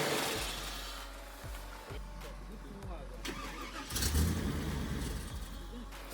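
An off-road vehicle engine cranks and catches, then cuts out almost at once, with a few short starter bursts and engine rumbles heard under people talking.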